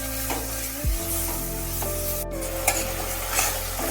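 Jackfruit cooking with mutton fat and minced meat in a pan, with a metal spatula stirring and scraping through a continuous loud sizzle, close up, with a few sharper knocks and no voices.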